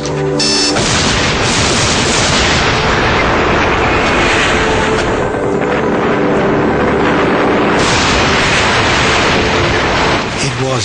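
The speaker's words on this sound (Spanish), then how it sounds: "La explosión fue como de fuegos artificiales" A long, loud roaring dynamite blast on a canal at the Itaipu hydroelectric dam rumbles continuously, dense and broadband, with a sharp burst at the start and crackling debris-like noise throughout.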